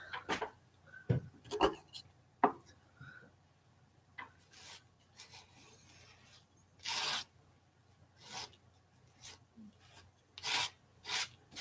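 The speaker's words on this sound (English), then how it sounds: "Scrape up some of this gesso." Gesso being scraped off a handmade Christmas card, heard as scattered short rasping scrapes separated by quiet pauses, close and fairly soft, with no talking.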